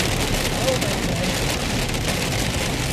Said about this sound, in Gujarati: એકદમ જોરદાર વરસાદ એમ આવો તો ક્યારેય જોયો નથી